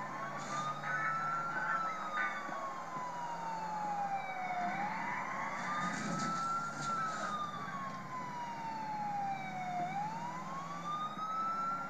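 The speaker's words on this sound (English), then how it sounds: "Let's get to the ambulance first." An ambulance siren wails in Grand Theft Auto IV, a steady rising and falling electronic tone cycling several times at moderate volume over low engine rumble and street ambience.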